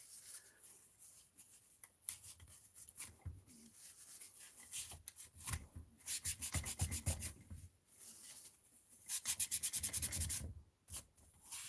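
Close, uneven rubbing strokes come in bursts as grit is wiped off a Redcat Kaiju RC truck battery tray, with brief pauses between them and no talk.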